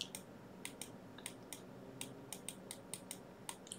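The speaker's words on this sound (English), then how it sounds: "Sorry for the typing. I mean, I'm writing with the mouse." Sharp, faint computer mouse clicks come in irregular bursts while someone writes with the mouse during a networking lecture, each click brief and isolated over a steady low room hum, with no talking.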